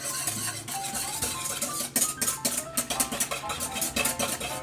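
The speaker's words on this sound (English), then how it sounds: "I'm just gonna mix that around" Brown sugar and a pinch of salt are mixed in a bowl, a spoon scraping and clinking against the sides in quick irregular strokes that grow sharper toward the end, close and without talk.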